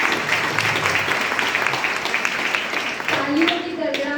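Steady audience applause welcomes a keynote speaker at a girls' college event, dense clapping throughout, with voices emerging near the end.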